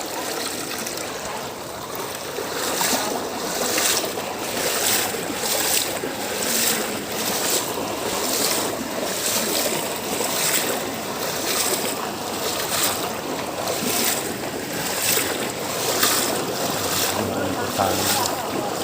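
Floodwater rushes continuously during a typhoon in a town, a loud, steady roaring wash of water with faint voices beneath it throughout.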